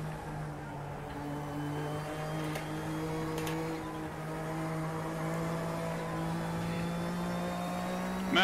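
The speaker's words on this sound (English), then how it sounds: "Man, the sound of that Audi is loud when you gas." Audi GTO race car in RaceRoom, its engine droning steadily with a rising pitch under throttle, loud and continuous throughout with no talk.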